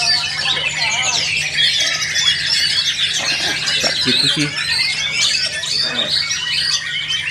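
Bright, varied whistles and chirps of a white-rumped shama trill continuously in the foreground, with a person speaking briefly underneath and a low steady hum.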